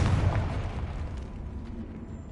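A Confringo fire spell bursts in a decayed catacomb in Hogwarts Legacy, a loud booming blast at the start that rolls off into a rumbling decay over about two seconds, with no voices.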